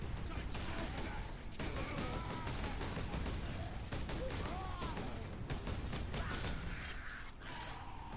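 Gunfire rings out against orks in the Warhammer 40,000: Space Marine video game. Dense rattling bursts and mechanical clatter run without a break through the whole stretch, loud and close, with no clear speech.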